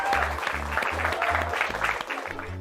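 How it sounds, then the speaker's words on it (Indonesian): A group claps together in a steady rhythmic beat, fairly loud and close, the even pulses continuing throughout. "tepuk tangan buat saudari Soba"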